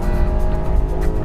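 A 2014 Volkswagen Tiguan 4Motion with a turbo engine launches hard and accelerates, giving a steady, dense engine roar that holds at a constant loud level throughout, with no voices.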